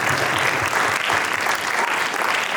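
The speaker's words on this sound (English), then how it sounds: "Please, a round of applause for Rosanna." A round of applause from an event audience, loud, dense and continuous clapping for a couple of seconds with no one speaking over it.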